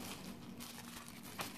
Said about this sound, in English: let's take it out of the packet. So, as you can see, it's double wrapped. Nice little bit of red bubble wrap, followed by a cheap plastic bag